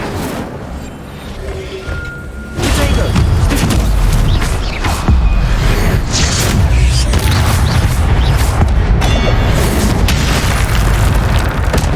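A fire spell blast from the Hogwarts Legacy video game roars out loud after a quieter opening, a sustained booming burst of crackling fire that stays dense and forceful for several seconds, with no voices.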